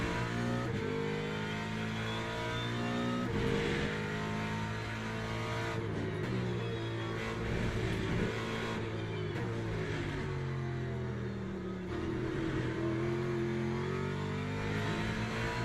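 BMW M4 GT3 race car engine lapping the Barcelona circuit in the Le Mans Ultimate sim, a loud continuous howl rising and falling through gear changes and revs with no talking.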